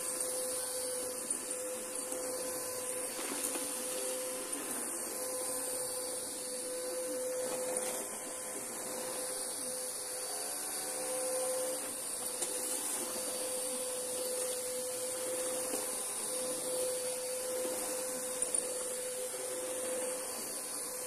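A Bissell Powerforce Bagless upright vacuum cleaner with a worn belt runs continuously, giving a steady whining motor hum with a high-pitched whine and little variation across the whole stretch, fairly quiet and alone.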